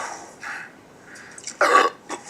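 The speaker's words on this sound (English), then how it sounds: "No, I had to burp." A person burps once, a short, moderately loud belch indoors with faint throaty sounds around it.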